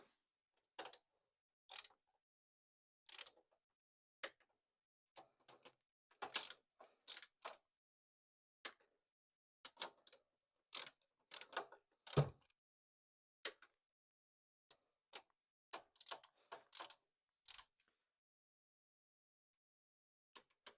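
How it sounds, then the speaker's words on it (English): Sparse, sharp metallic clicks and ratcheting snaps from a torque wrench tightening cylinder head bolts to 25 on an LS2 engine being built for a GTO, heard close up in a quiet space with irregular gaps. "Now we gotta torque the little guys down to 25."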